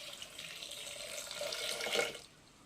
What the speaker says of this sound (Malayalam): കഷ്ണങ്ങളുടെ വേവാനുള്ള വെള്ളവും വെച്ച് കൊടുത്തിട്ടുണ്ട്